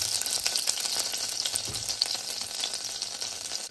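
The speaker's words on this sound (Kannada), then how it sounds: "ಇದಕ್ಕೆ ಇವಾಗ ಚೂರೆ ಚೂರು ಜೀರಿಗೆ ಹಾಕ್ಕೊಳ್ಳೋಣ" Cumin seeds sizzle in hot butter in a pan, a steady bright crackle with small pops and light stirring clinks close by, no voices.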